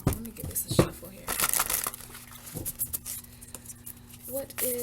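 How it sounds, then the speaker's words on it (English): Large tarot cards are shuffled by hand in a run of papery rustles, flicks and soft slaps. The sounds are close and irregular, with someone talking softly in between. "let me get this a shuffle here"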